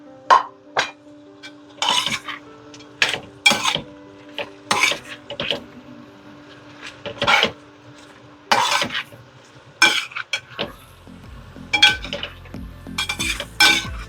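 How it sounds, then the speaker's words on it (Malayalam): Chilli chicken with fried chicken pieces being stirred in a pan, a spatula scraping and clinking against the metal in repeated close strokes with light sizzling underneath, no talk. "നല്ലോണം ഒന്ന് മിക്സ് ചെയ്യാം."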